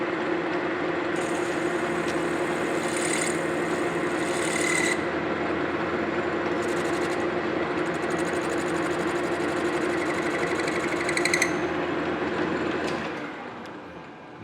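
Metal fixturing rings for a cane mill restoration having their corners broken in the machine shop: a continuous close mechanical hum and whir with brief higher, scraping bursts layered on top.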